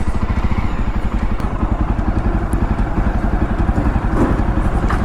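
A 335 cc, 180 kg Jawa Bobber 42 motorcycle engine thrums steadily and close while riding in second gear on a potholed road, a continuous low throbbing pulse with some rattles and clatter.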